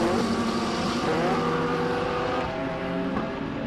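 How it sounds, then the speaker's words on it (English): Race cars at a regional extreme festival round on a circuit, including a Lamborghini, a continuous loud engine roar with shifting pitch as the cars drive past. "as you can see a Foster Lamborghini coming from behind"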